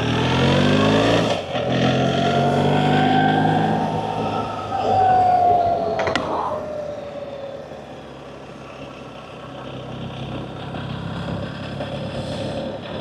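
A BMW R 1300 GS Adventure motorcycle sets off and rides under windy conditions, its engine note rising through gears over heavy wind buffeting, with someone speaking intermittently over the ride.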